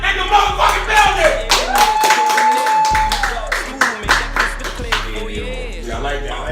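A live room audience claps in a loose round of applause, with sharp hand claps over a thumping musical beat and people talking throughout.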